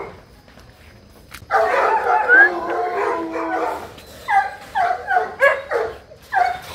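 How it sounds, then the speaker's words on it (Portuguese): A pack of dogs at home, a long loud howl followed by a rapid run of close barks and yips, with a few faint sounds before it starts. "Cachorrada bruta em casa,"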